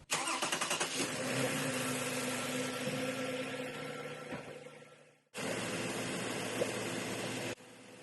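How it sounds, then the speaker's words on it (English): A Toyota Lexus 2GR-FKS V6 cranks briefly, catches and settles into a steady, fairly loud idle; the sound cuts off abruptly, then the idle resumes before stopping again. "Start the engine."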